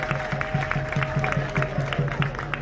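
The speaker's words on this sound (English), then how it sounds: "Let's clap for His Excellency the President." A crowd in Marampa chiefdom's mining village applauds the visiting president with rhythmic, steady clapping in a regular beat, fairly close and sustained over a faint background hum.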